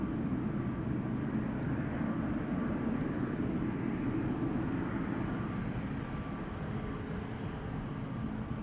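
An airliner takes off at Amsterdam Schiphol, a steady broad engine roar heard from some distance, even and unbroken throughout, fading slightly toward the end.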